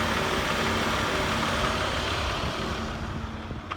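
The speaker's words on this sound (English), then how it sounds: "The engine is running nice and smooth now." A 2001 Chevy Impala engine with a blown head gasket, treated with a sealant, idles steadily in a constant, loud, low rumble that eases slightly toward the end, with no talking.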